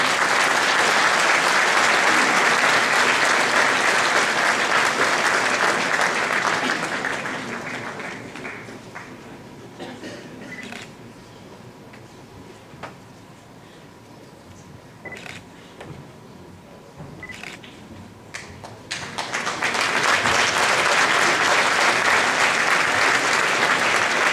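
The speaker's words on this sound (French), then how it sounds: "qu'on applaudit très fort" An audience applauds the municipal police at a mayor's New Year address, with a loud sustained ovation that fades to quiet with a few camera clicks, then swells again into strong clapping.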